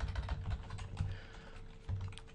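Rapid computer keyboard typing while writing Java class code, a close, continuous clatter of key presses with a few heavier thumps, likely the space or enter key, and no speech.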